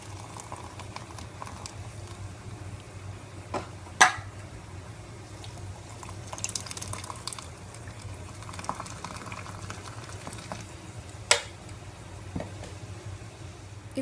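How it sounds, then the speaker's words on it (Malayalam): Mirinda orange soda is poured into a jar to make a fizzy fruit drink, a steady bubbling, fizzing hiss with occasional small clinks and drips, heard close and without talk. "ഇനി ഇതിലേക്ക് മിറിൻഡ ഒഴിച്ചു കൊടുക്കുക"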